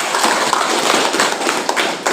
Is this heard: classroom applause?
yes